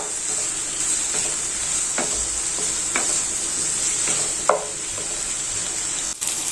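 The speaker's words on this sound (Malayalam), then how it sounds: "ഇത് ചെറുതായി ഒന്ന് വഴന്ന് വരുന്നത് വരെ ഇളക്കി കൊടുത്താൽ മതി." Onion, ginger, garlic, green chilli and curry leaves sizzle steadily in a frying pan, with a few sharp clicks from a spoon stirring against the pan.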